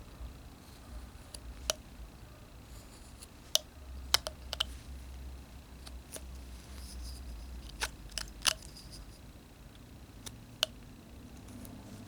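Knife whittling a figure from a one-inch block of wood, with sparse, sharp little cutting clicks and scrapes spread irregularly over a steady low background hum.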